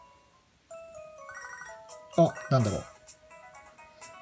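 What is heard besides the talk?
phone ringing in a Pokémon SoulSilver video game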